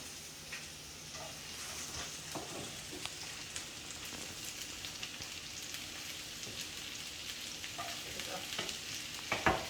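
Garlic and jalapeños hit a hot pan for Thai drunken noodles, setting off a steady close sizzle with scattered crackles and pops and a few light utensil clicks near the end.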